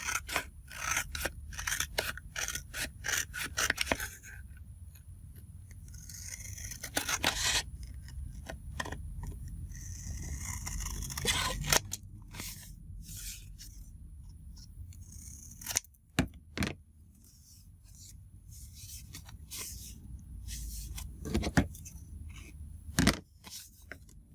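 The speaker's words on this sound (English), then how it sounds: "I'm going to cut along the edge" Scissors snip paper along the edge of a Stamperia journal cover, with close, crisp bursts of cutting and rustling paper between quieter pauses, no voices.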